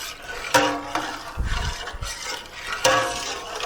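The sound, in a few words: stirring flour in a pot for pot roast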